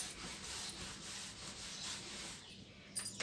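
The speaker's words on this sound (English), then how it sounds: "I am rubbing." Steady dry rubbing or scraping strokes, soft and close, repeating in an even back-and-forth rhythm for a few seconds before stopping near the end.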